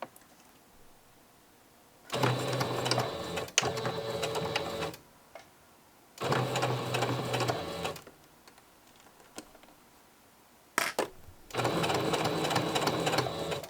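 A sewing machine stitching Velcro onto the suede side of a toddler sandal strap runs in three steady motorized bursts of rapid, even stitching, with quiet pauses and a few small clicks between them.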